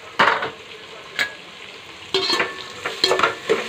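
Tomatoes fry in a pan with a soft sizzle, broken by several sharp, close scrapes and clinks of a spoon stirring against the metal.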